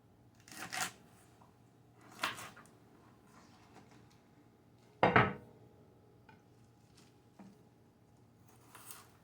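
A knife slicing fresh farmer's market celery into thin pieces on a board: three or four distinct, crisp cuts spaced a couple of seconds apart, quiet and close, with no talking.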